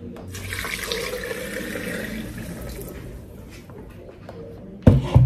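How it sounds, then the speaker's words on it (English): Water poured into a blender holding ginger and pineapple skin, a steady close rushing splash that tapers off, then ends with a couple of sharp clunks. "I'm gonna throw some water."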